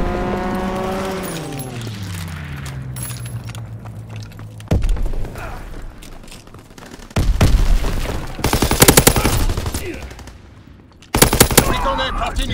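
Fighter plane strafing the battlefield in Call of Duty WWII Domination multiplayer, an aircraft drone sweeping down in pitch followed by loud bursts of rapid machine-gun fire and scattered gunshots, with intermittent sharp volleys.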